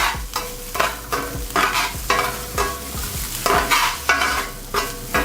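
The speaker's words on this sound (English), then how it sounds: "You want to lightly saute everything." Onions, peppers, spring onion and jalapenos with a pinch of salt are sautéed in oil, a close sizzle broken by rhythmic scraping strokes of a utensil stirring the pan about once every half second.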